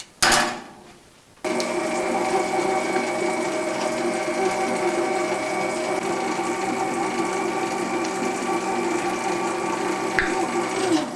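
A dough mixer churns multigrain sourdough dough in a steady, continuous mechanical whir with a rhythmic rumble, loud and close, starting abruptly after a brief quieter moment and running without pause.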